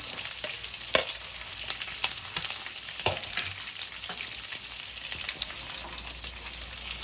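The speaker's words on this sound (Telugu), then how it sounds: "కరివేపాకు ఫ్రై చేయాలి." Onion, green chili and curry leaves fry in a pan with a steady close sizzle, broken by a few sharp pops and stirring clicks throughout.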